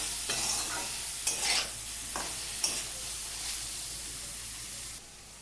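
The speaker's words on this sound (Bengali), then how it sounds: "নুনটা ভালো করে ভাজার সাথে মিশিয়ে নিলাম।" Salt is stirred into vegetables frying in a pan for an egg vegetable Maggi dish, a soft continuous sizzle broken by a few scraping spatula strokes, close and alone.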